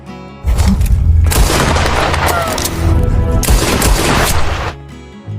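Pistol gunshots ring out in a cowboy quick-draw duel in a film: loud, booming blasts that overlap into a sustained roar for several seconds, then cut off abruptly.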